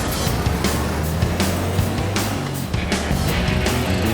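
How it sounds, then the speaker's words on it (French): A motorbike rides along in the early morning, a steady low engine drone with rumbling harmonics and some broadband road or wind noise, continuous and fairly close throughout, with no talk. "C'est le son de ma moto au petit matin."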